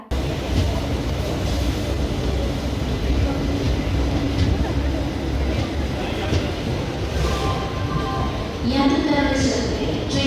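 A train moving slowly gives off a steady, heavy rumble and muffled rail clatter throughout, with a brief rise in squealing, metallic noise near the end and voices talking over it.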